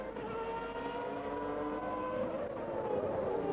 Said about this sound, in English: Lovely view of the Williams Renault with its RS5 V10 engine. Powers up to Goddard.